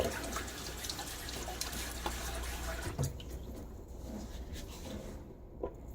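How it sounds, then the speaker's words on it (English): At a bathroom sink during a wet shave, water is splashed onto the face from running tap water, giving close, bright splashing and trickling that thins into softer drips near the end. "splash my face with a little bit of water."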